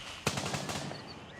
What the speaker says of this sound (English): Oh, yeah, they're shooting at me.